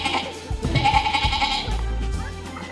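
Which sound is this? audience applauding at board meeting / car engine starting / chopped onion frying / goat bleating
goat bleating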